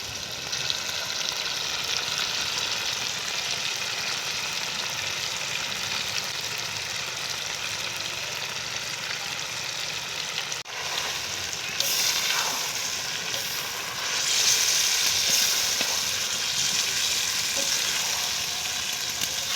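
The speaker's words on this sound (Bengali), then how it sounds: "আমার কিন্তু মাংস ভাজা প্রায় হয়ে গেলে তো এই সময় আমরা দিয়ে দেবো লঙ্কার গুঁড়া," Chicken pieces frying in a pan with chili powder, cumin and meat masala, a continuous close sizzle with stirring scrapes that grows louder and crackles more toward the end.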